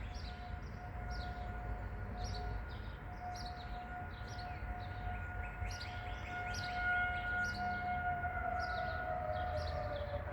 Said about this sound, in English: There's circular sirens on top of poles, and when they turn them on, they whine and they drone